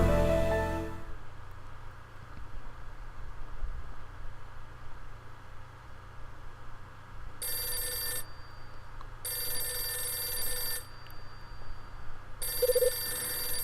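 A telephone rings in the game Last Window: The Secret of Cape West, three bursts of bright, buzzing bell tones separated by pauses, heard clearly over a steady low background hiss with no talking.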